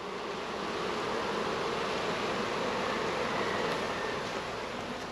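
A package of honey bees being installed into a hive gives a continuous, even buzzing hum at close range, steady in level throughout with no voices.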